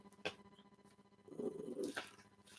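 A dog growls and huffs in low, rough bursts while attacking its toy indoors, close but fairly quiet, with a couple of sharper snaps or yips breaking through.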